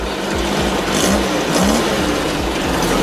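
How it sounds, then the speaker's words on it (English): A Volkswagen dune buggy sand rail engine with a broken throttle cable, revved up from a steady idle, runs loud and close in a continuous rough, buzzing drone with slight rises in pitch. "You can see where I pull it, it'll rev the motor up."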